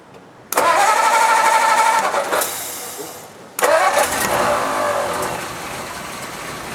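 A 1957 Ford Thunderbird with a Y-block V8 and mechanical lifter cam cranks over twice; each attempt is a loud burst of starter whirr and engine catching, close by, separated by a short pause.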